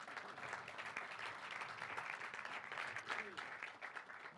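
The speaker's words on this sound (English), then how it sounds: "You can clap it up for that." A crowd claps outdoors at the 2019 unveiling of Brooks Robinson Field at Frederick Douglass, a faint, steady spread of applause with scattered voices mixed in.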